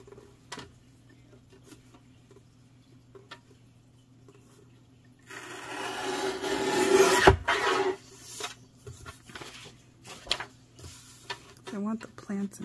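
Paper being trimmed for a Halloween journal, a dry rasping cut that swells for a few seconds in the middle, with quiet handling and a little talk before and after.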